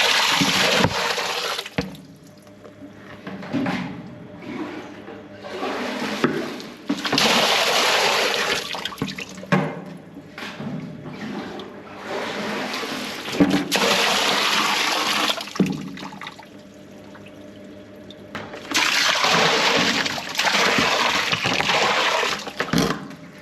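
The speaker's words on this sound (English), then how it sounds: "I've chucked about 15 buckets of water down this" Bucketfuls of water are dumped down a drain in a flooded basement, several loud gushing pours separated by brief pauses, each splash rushing and gurgling away close by.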